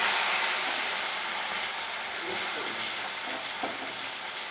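Tomatoes dropped into hot mustard oil with black cumin seeds in a pan, giving a steady, loud broadband sizzle that holds evenly throughout with no talking.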